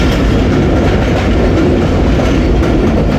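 The 102 Down passenger train crosses the Jhelum river bridge in Pakistan at speed, a loud, close, continuous roar with rhythmic clickety-clack of wheels on the rails.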